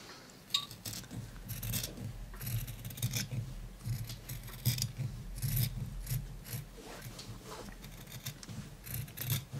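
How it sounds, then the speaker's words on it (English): Scissors cutting fabric for a bow tie, giving a close, continuous run of crisp snips and rasping slides along the cloth with no pauses, over a low background hum. "What I'm doing is I'm cutting close to the curve and then back out again."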